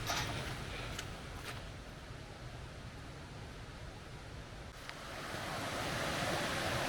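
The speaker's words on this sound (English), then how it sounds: "this Burbage Brook's flowing like a good one today" Burbage Brook in Derbyshire running fast and swollen with snowmelt, a constant loud rushing of water that swells slightly toward the end, with no voices.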